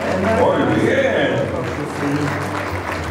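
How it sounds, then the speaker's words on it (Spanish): An audience applauding at a celebration, with steady dense clapping throughout. A host's voice speaks over it. "¡Fuerte el aplauso!"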